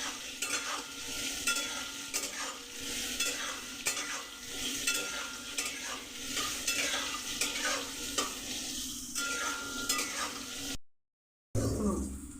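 Soybean chunks fry on a high gas flame, a steady loud sizzle broken by repeated scraping stirs of a spoon in the pan, with a brief drop to silence near the end.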